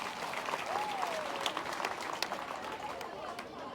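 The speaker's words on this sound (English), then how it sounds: "Can we give them a round of applause?" Applause for a debate team at a school press day, a steady wash of clapping under crowd noise and a speaking voice, continuing evenly throughout.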